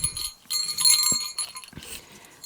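A sleigh bell on a handmade macrame Christmas door hanger jingles in short, bright bursts, close and fairly loud, with a brief pause between shakes.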